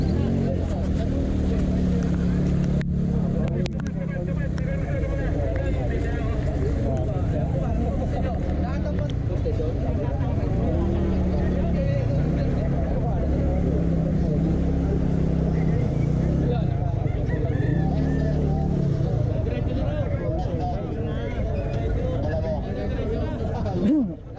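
Motorcade of vehicles and motorcycles at an anniversary gathering, a steady close engine drone and traffic rumble running throughout, with crowd voices and talk mixed over it.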